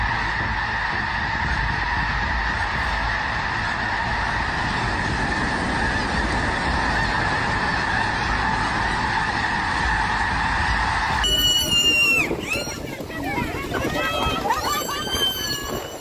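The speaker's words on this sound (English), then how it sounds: "A breathtaking sight thousands of snow geese take to the skies," Thousands of snow geese take off in a flock, a dense continuous chorus of honking with wingbeat rush, loud and sustained, with the clamor shifting and breaking up near the end.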